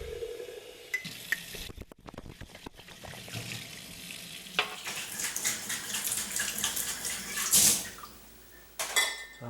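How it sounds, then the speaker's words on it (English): Quart glass jars being rinsed with warm tap water while canning ground beef and sausage: running water splashes and swirls, with clinks of glass and a brief louder gush, close and without talk. "So now I'm just going to rinse out all these quart jars with warm water."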